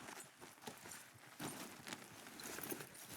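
Horse hooves clip-clop in the video game Red Dead Redemption 2, a steady walking rhythm of soft thuds over low ambient game sound, fairly quiet with no speech.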